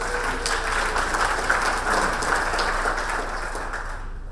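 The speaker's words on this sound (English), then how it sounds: "let's give her a round of applause" Steady, full applause from an audience at a public discussion event, a continuous wash of many hands clapping at even loudness throughout, with no voices standing out.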